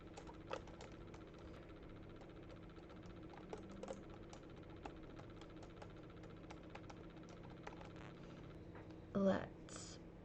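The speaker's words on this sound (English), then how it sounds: "So it is like simple, really light keys, nice little sound." Soft, rapid clicks of light keys on a computer keyboard being typed on, faint and close, with a brief louder bump near the end and a quiet voice murmuring in the background.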